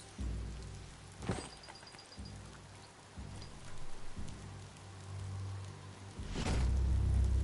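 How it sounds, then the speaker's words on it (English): Rain falling in the video game Biomutant, a steady wash of droplets over a low rumbling background, with a couple of sharper bursts swelling up; no one speaks. "The rain can't last forever"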